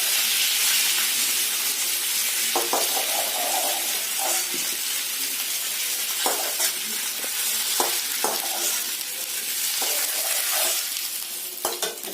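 Potatoes frying in oil for a vegetarian jackfruit biryani give off a dense, continuous sizzle, broken by repeated scraping stirs and clacks of a utensil, close and fairly loud with no talking.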